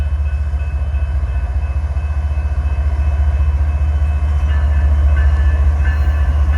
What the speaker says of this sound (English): Train coming right now.